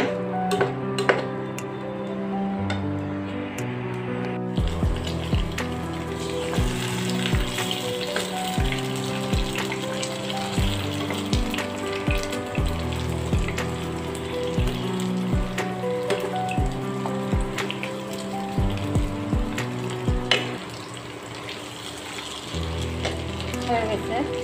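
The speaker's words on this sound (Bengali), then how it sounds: "এই আলু ভাজির এক পাশে ডিম পোস্ট করে নেব।" An egg fries in a pan beside fried potatoes, giving a continuous sizzle punctuated by scraping and clattering of a utensil against the pan, steady and close throughout.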